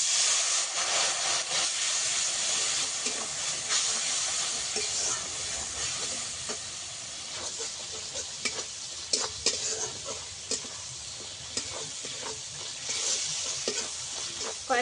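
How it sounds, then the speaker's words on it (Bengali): Ground spices fry in oil for a fish dish with a continuous loud sizzle and hiss, punctuated by frequent scraping stirs and clinks of a spoon in the pan, close up with no talking. "সব কিছু একটু ভেজে নেব"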